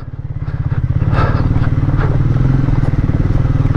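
Loaded Triumph Speed 400 motorcycle descending a steep stretch of road in Ladakh, its engine throbbing steadily and close with a rapid pulsing beat and some rattling clatter.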